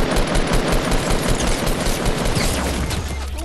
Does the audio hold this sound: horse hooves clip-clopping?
no